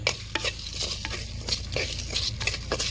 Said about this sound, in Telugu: ఇప్పుడు వీటిని దోరగా వేయించుకుందాం అండి